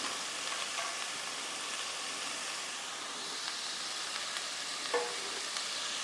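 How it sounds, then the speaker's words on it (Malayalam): Carrots and mixed vegetables fry in a pan for Kerala-style thoran as they are stirred. A soft, even sizzle hisses steadily, with a faint scrape of the spoon near the end. "ഇളക്കി കൊടുക്കാം."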